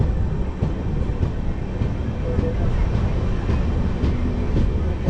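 A passenger train running between Puri and Kolkata near Khurda Road junction, heard from inside as a loud, steady rumble with faint rhythmic wheel clacks over the rail joints throughout.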